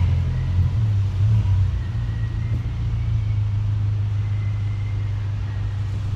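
Volkswagen Polo with a loud exhaust, a deep steady engine rumble heard close up, holding at a constant level without clear revving.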